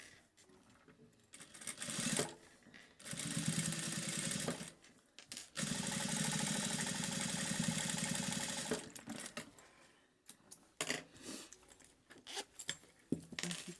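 Sewing machine topstitching a seam along the lining of a wallet pocket: close, moderately quiet runs of rapid stitching that start and stop in several bursts, with one longer steady run in the middle.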